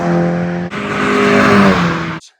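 A Mazda MX-5 MK2 sports car exhaust drones with a steady tonal note, briefly dipping, then rising in pitch under throttle before cutting off abruptly; loud and close, no speech.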